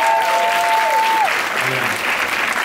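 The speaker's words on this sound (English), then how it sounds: "A round of applause for Shaz Bennett's film." An audience claps steadily and loudly after a film screening, a continuous crowd applause, with a sustained musical tone gliding down and fading at the start and faint voices underneath.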